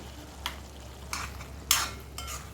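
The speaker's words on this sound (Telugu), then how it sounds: "ఒకసారి అంతా కలుపుకుందాం." Eggplant and drumstick curry stirred in a pan, with four soft scraping strokes of a spoon over a low background hum. The strokes are quiet and close, and no one speaks.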